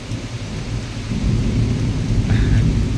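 Heavy rain pours down steadily while deep thunder rumbles and swells, growing louder toward the end, with no voices.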